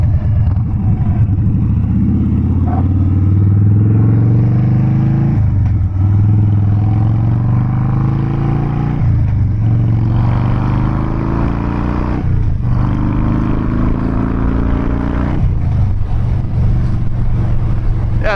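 A Harley-Davidson Dyna Wide Glide motorcycle accelerates hard and close, its engine note climbing through several gear shifts in repeated rising sweeps with brief dips between them.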